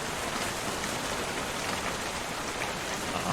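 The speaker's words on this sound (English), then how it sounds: "the rain has started" Steady rain falls throughout in a flight simulator, heard with the Aerobask Lancair Legacy RG over Norway: a dense, even hiss of drops on the aircraft, fairly soft and continuous with no talk.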